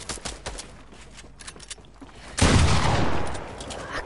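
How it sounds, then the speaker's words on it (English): SMG fire in a video game: a sudden loud burst of rapid shots erupts partway through after quieter scattered clicks and game noise, then fades, heard up close. "I've got an SMG"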